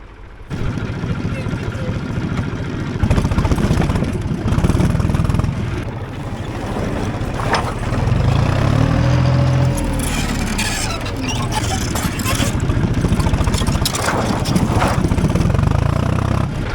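A tractor engine drones loudly throughout while tipping poles in an orchard field, with a deep low rumble and occasional rising revving sounds.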